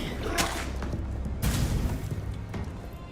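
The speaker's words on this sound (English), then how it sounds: "I'm liking these explosions here." Explosions in the action roguelike game Curse of the Dead Gods, a series of booming blasts and thuds at moderate level, with sharp bursts near the start, middle and end over a busy background of game sound.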